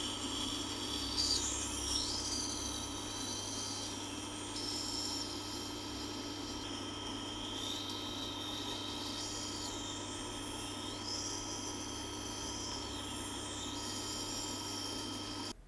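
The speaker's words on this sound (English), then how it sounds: "This was my first time sharpening a knife with this sharpening system." Knife blade drawn repeatedly across the stone of a guided knife sharpening system fitted with a knife attachment, giving steady scraping rasps in recurring strokes, close and moderately loud over a constant low hum, with no talking.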